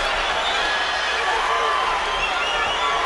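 Crowd noise stirs during the Terence Crawford vs Ray Beltran boxing match, a dense, continuous arena murmur rising slightly, with a commentator's voice mixed in.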